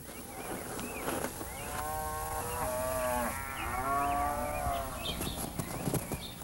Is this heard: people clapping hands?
no